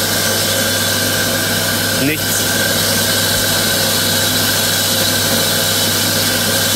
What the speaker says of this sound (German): ich haue gerade auf die Säge